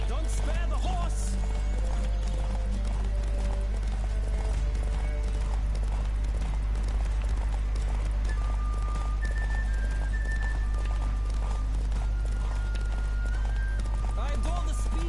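Racing horses galloping in The Witcher 3, hooves drumming in a fast, unbroken clip-clop with a few snorts and whinnies, close and prominent over low game music and intermittent voices.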